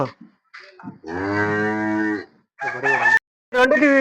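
A calf at a dairy gives a long, loud, close moo, then two shorter calls after brief pauses, with no voices present.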